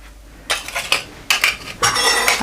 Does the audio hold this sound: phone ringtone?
no